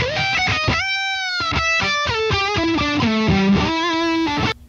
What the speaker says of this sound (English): Let me play you a little piece of what that sounds like dry